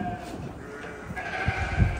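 Sheep bleating in a livestock barn at a small-ruminant farm, with Awassi and Merino sheep present, a couple of short, fairly close bleats rising over a quiet room hum.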